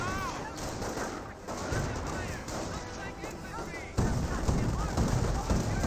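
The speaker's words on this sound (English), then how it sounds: "Who's firing some shots there on these forces" Battle gunfire in Company of Heroes rattles steadily throughout, with machine-gun bursts and heavier artillery-like thumps that grow louder toward the end, while a commentator talks over it.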